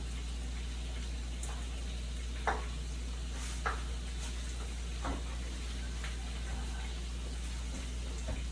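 Lasagna ingredients are stirred in a bowl, with a few soft, scattered scraping strokes over a steady low hum. It is faint and there is no talking.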